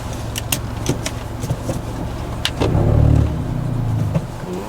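A 2016 Kia Forte running on E85 accelerating in a pull, engine tone rising into a louder surge midway then easing, heard from inside the car amid clicks and rattles.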